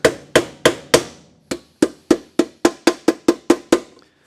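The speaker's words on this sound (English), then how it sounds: "I don't know why I'm swinging this giant sledgehammer." Sledgehammer striking a rivet on a sheet metal tool tray: about fourteen sharp metallic bangs at a fairly steady pace, each ringing briefly before the next, close and loud with no talk.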